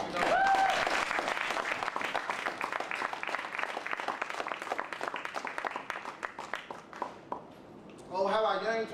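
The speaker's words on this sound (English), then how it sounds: "You get round applause." A crowd applauds at a Newtown remembrance tribute, dense clapping sustained for most of the time before fading out, with a voice breaking in at the end.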